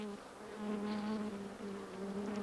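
Honeybees give off a steady, droning buzz that hums on without pause. Swarm or hive sound swells slightly and wavers, close and fairly full, with no voices.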